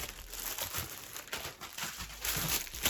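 A lost-mail parcel package is unwrapped, its plastic bag crinkling and rustling continuously up close at moderate volume with no talking.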